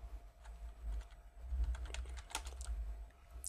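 Keys tapped on a computer keyboard while adding text in Photoshop, a brisk uneven series of light clicks at close range over a low background rumble, with no voices.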